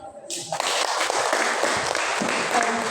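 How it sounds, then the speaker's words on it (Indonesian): An audience applauds a first-place scripture storytelling contestant at a high school competition, a dense wash of clapping that rises abruptly after a brief quiet moment and stays loud and steady throughout. "Tepuk tangan yang meriah untuk Kak Adela"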